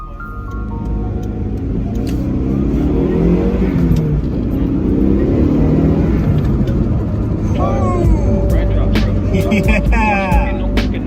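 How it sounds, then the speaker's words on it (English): An Eagle Talon TSI, freshly tuned up during a restoration, pulls away on a test drive with a loud, steady engine roar heard from inside, as voices chime in near the end. "let's go take it for a test drive"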